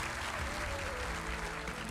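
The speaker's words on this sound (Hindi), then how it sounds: "और ताली तो बजा रहे हो" Audience applause at a memorial lecture on Swami Vivekananda's birth anniversary, a dense, sustained clapping from a crowd filling the whole moment at an even level.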